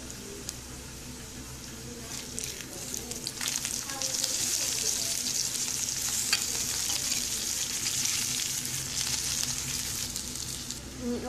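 Potatoes fry in oil with a steady, close sizzle that swells to a fuller crackle partway through, with faint scraping as they are turned.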